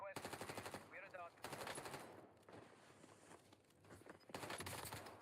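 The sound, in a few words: gunfire in a first-person shooter video game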